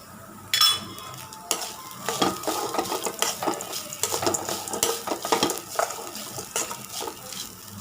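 Chutney ingredients with sesame seeds and a pinch of asafoetida being sautéed in a pan, giving repeated scraping, clattering stirring strokes over a light sizzle, close and fairly loud, with no talking.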